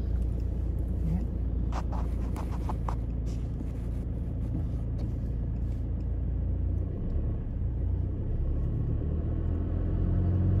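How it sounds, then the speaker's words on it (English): A car driving along beach sand near Cable Beach, Broome, giving a steady low engine rumble and tyre roar throughout, with a few brief higher scrapes near the start. "That's how you drive on the beach, ladies and gentlemen"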